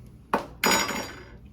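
A metal spoon scrapes and clicks against a rack of ribs being prepped for smoking on a Weber grill, one short knock followed by a longer scraping, rubbing burst, close and fairly quiet.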